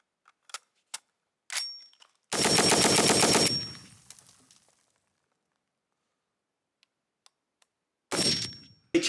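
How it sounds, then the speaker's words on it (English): An FN SCAR Heavy .308 rifle firing full auto outdoors, a loud burst of rapid shots lasting about a second, with a few single sharp reports before it and another burst starting near the end, separated by silence. "Now with the factory unmodified version you can actually shoot SCAR Heavy full auto."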